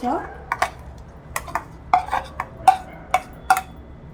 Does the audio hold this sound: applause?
no